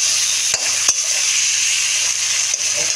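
Tomato going into hot oil with frying spices for a Bengali-style anchovy curry, a loud, dense, continuous sizzle heard close up, with a couple of brief dips and no talk.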